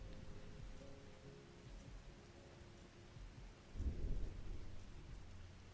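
Thunder rumbling over steady rain in a lofi ambient stream scene, with a soft constant rain hiss throughout and a louder low rumble swelling near the end.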